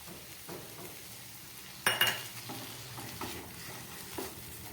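Bitter gourd, potato and onion frying in a pan with poppy-mustard paste being added, giving a soft steady sizzle with stirring scrapes and one louder clatter near the middle, close by and without talk.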